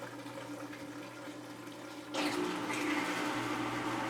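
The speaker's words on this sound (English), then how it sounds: "The water pump should start running to drain the water out." A Whirlpool washing machine's water pump kicks in partway through, switching a quiet motor hum to a louder, steady whoosh of draining water close by.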